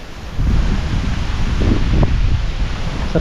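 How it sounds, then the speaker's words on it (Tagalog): Steady outdoor wind blowing among trees on a farm where a carabao is being fed, a continuous loud rushing with gusts and rustling close to the microphone, no voices. "Wow, sarap ng hangin dito."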